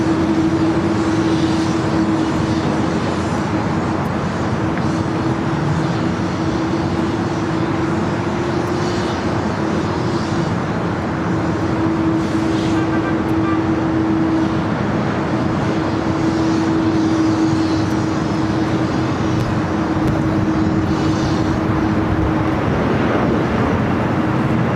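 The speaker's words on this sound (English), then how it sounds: "Korean Air Cargo 777 freighter touching down at 25 left." A Korean Air Cargo Boeing 777 freighter lands on runway 25 left at LAX, its jet engines making a loud, steady roar with a sustained tonal whine that holds without break for the whole stretch.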